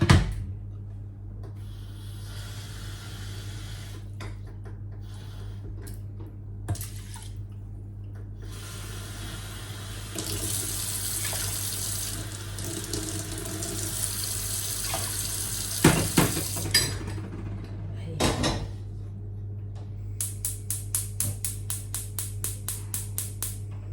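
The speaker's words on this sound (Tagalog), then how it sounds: "Hugas na hugas talaga ang rice." Rice is washed under a running kitchen tap, with a steady stream of water and low hum throughout. Intermittent swishing and splashing of grains in the pot are followed near the end by a rapid series of small clatters.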